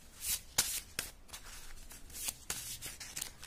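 Tarot cards are shuffled up close, giving a quiet string of crisp slaps and riffles at an uneven pace, with no talk over them.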